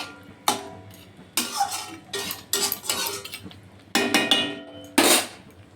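Metal lid and cookware clanking on a pot of fish curry cooking in broth, several sharp close clinks and rattles with short ringing tails in separate bursts.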